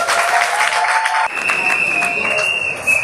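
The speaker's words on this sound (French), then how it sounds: "je vais applaudir" Audience at a university graduation and degree-conferral ceremony breaks into applause, dense clapping that shifts partway through, with background voices and a tonal hum mixed in.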